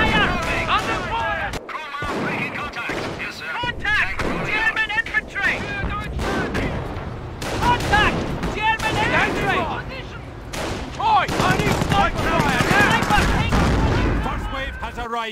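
Gunfire and explosions from the World War II strategy game Company of Heroes during a battle near Hill 112 at Caen, with dense overlapping rifle and machine-gun bursts and booms throughout, under frequent shouted soldier voice lines.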